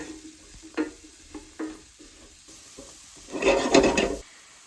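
Mushrooms cooking in a pan for chicken marsala, with short scraping stirs early on and a louder burst of sizzling and spatula scraping near the end, close and without talk.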